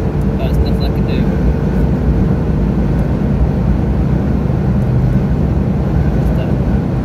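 Car air conditioning blowing at full strength, a loud, constant broadband roar of rushing air mixed with road and engine noise from inside a moving car, steady throughout with no talking.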